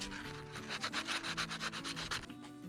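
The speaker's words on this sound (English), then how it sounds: "some light sanding removes any old remnants of the old gasket and prepares the surface for the new one" Brisk, rhythmic back-and-forth sanding strokes on a Craftsman edger carburetor, removing old gasket remnants, about a dozen in quick succession, close and steady with no talking.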